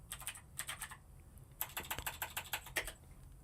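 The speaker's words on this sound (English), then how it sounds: "You can hear me typing there." Typing on a computer keyboard: quick bursts of light clicking keystrokes in two runs separated by a short pause, close but quiet, with no talking.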